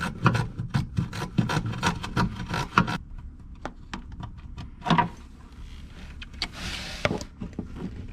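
Ratcheting and scraping clicks from a 13 mm socket wrench cracking loose the oil drain plug on a Can-Am Maverick 1000R, a burst of close taps and rasps followed by sparser clicks and a brief hiss, with no talking.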